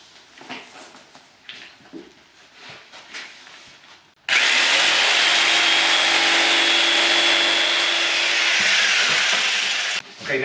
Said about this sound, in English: So to have a nice cleaner cut, the jigsaw I think is the way to go.